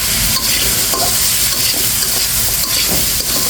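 Drumsticks (sajna) fry loudly in spiced oil with a constant dense sizzle, broken by rhythmic scraping strokes of stirring about every half second. No one speaks.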